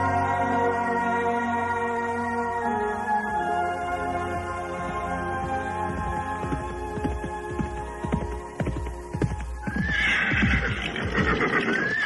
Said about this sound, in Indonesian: 2 ekor kuda telah berderap dengan cepat